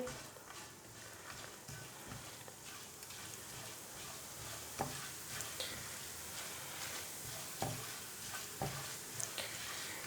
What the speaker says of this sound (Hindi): 1 चम्मच साबुत ज़ीरा और 1 चम्मच ही डालेंगे हम साबुत धनिया। इन दोनों चीज़ों को हल्का सा फ्राई करेंगे